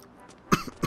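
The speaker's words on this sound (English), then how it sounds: "I keep coughing" A single short cough, close and abrupt, followed by a smaller throat-clearing sound after a quiet moment.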